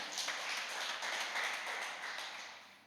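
A church congregation claps together during a worship service, a steady broadband patter of many hands filling the room for a few seconds and tapering slightly at the end.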